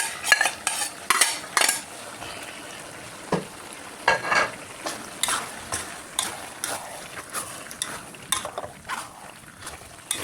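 Spicy wild boar is stir-fried with basil, red chili and kaffir lime leaves, with a steady low sizzle under repeated scraping and clinking of a utensil against the pan, close and moderately loud.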